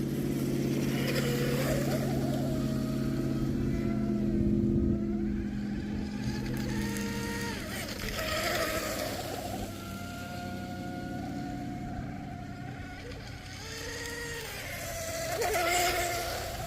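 An RC shrimp boat powered by an upgraded Tenshock motor with a Kraken ESC runs on the water, giving a loud, steady electric whine that rises and falls with throttle changes across the run.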